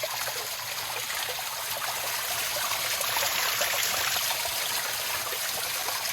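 Clean stream water flows steadily at a Wangedigala campsite in Sri Lanka, a continuous bright rushing and trickling wash, close and fairly loud with no voices.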